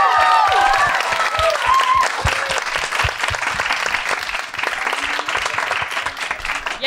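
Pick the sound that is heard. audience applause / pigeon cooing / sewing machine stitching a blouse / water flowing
audience applause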